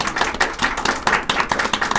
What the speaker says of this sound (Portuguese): Ó, palmas, gente.